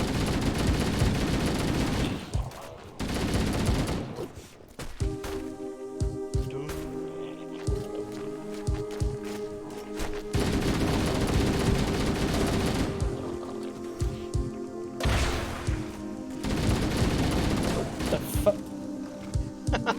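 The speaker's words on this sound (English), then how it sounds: "You were shooting while reloading there, that was brilliant." Bursts of Halo CE gunfire ring out in clustered volleys with brief gaps, loud and close, while people talk over the shooting.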